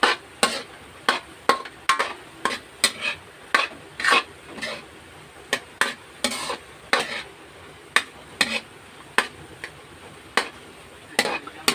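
Food is sautéed in a pan for spaghetti, a utensil clacking against the pan in steady, regular strokes over a soft background hiss, close and moderately loud with no talking.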